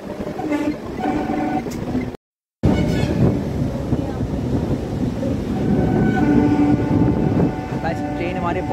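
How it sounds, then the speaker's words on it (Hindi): Metre gauge passenger train pulling out of Sahebpur Kamal station in India, a steady rolling rumble with clattering wagons and a brief horn-like tone, continuous and fairly loud, with voices talking over it. "बस डिपार्ट कर रही है हमारी ट्रेन साहेबपुर कमाल से"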